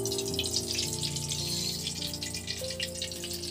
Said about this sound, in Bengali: এবার কড়ার মধ্যে তেল দিয়ে দেবো